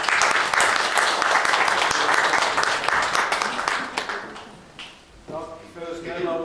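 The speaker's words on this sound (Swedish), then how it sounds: "Och med en varm applåd hälsar vi dig varmt välkommen hit." Warm applause from the audience at the opening of a maritime museum exhibition, dense and steady for about five seconds before fading, with a voice starting to speak as it dies away.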